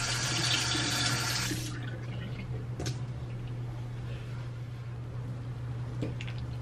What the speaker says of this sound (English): And then add a little water.